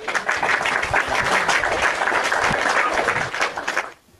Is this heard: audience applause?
yes